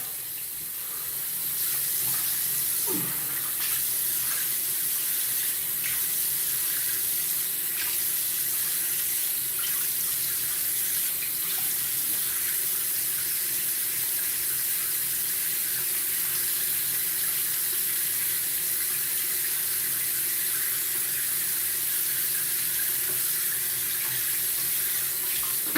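Water runs steadily from a tap while someone rinses after a shave, a constant close splashing flow that continues unbroken for the full length with no talk over it.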